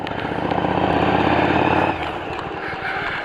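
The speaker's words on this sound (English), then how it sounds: "And I'm riding my motorcycle." A motorcycle engine runs steadily and loud up close while being ridden on a December commute, its drone dropping in pitch partway through as the throttle eases, with no talk over it.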